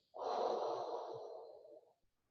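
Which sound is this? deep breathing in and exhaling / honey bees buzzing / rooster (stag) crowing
deep breathing in and exhaling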